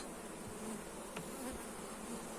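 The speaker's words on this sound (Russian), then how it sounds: "И вот пчелы сейчас шастают по пасекам, ищут, где бы украсть не меда, а воску." Honeybees flying around an apiary in autumn, searching for wax; a faint, continuous buzzing hum with occasional closer passes, no voices.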